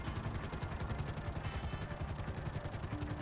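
Helicopter in GTA Online: a fairly faint, steady rhythmic rotor chop that continues evenly from start to end, with no voices over it.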